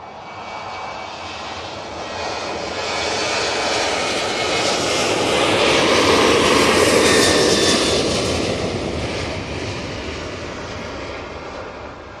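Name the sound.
TUI airliner taking off for Larnaca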